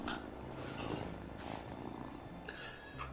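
A cat purring in the farming game Wylde Flowers, a soft continuous low rumbling purr with faint chimes and light background game sounds, quiet and close.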